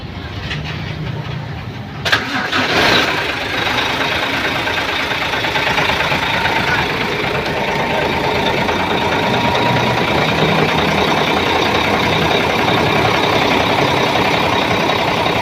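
A Hino E13C truck diesel cranks and catches after about two seconds, then settles into a steady, loud idle with a constant low rumble that runs uninterrupted with no talk.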